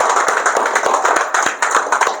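Close, loud applause from an audience, dense rapid hand claps running steadily without a pause.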